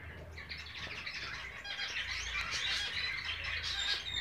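Gouldian finches and canaries chirping and singing together in an aviary, a steady busy mix of high twittering calls with low background rumble, no talk.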